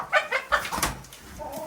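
Brabanter chickens, roosters and hens, clucking in a short series of close, loud calls that trail off into softer farmyard clucks and background noise.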